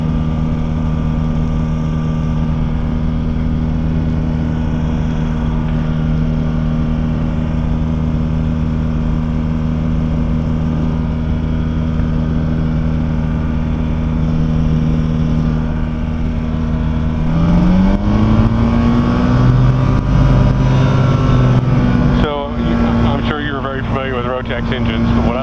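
A light aircraft engine warms up before flight, a steady droning hum that shifts upward in pitch partway through as the revs change, with voices talking over it throughout.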